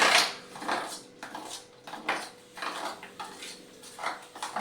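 Dhokla batter mixed with spices and salt in a metal vessel gives repeated scraping and clinking strokes in an uneven rhythm, close and moderately loud, with no talking.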